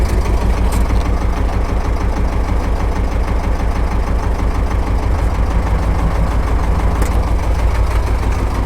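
A tractor engine runs steadily and loudly at close range with a deep, throbbing low rumble while the plough is raised for winter ploughing, with no voices.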